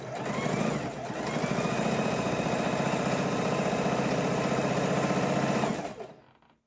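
A sewing machine runs steadily, stitching a pinwheel border onto a king size quilt. It holds a fast, even motor whir for about six seconds before stopping, with no talking.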